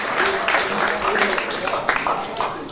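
Audience applause for a jubilarian at a brass band's centenary celebration, steady clapping filling the room for a few seconds with voices murmuring underneath.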